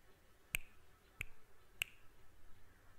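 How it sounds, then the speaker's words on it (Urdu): Three crisp finger snaps, evenly spaced about two-thirds of a second apart, close and distinct against a quiet background with no talking. "اس کے آگے چٹکی بجائی"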